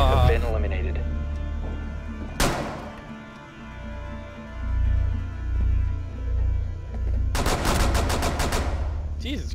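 Rapid gunfire in Rainbow Six Siege, with a sharp single shot followed later by a fast close burst of automatic fire, over a low droning background and someone talking.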